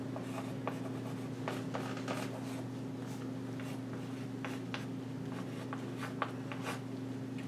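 Pen scratching on a surface while an equation is written out, a steady series of short strokes and taps over a constant low hum, close and clear.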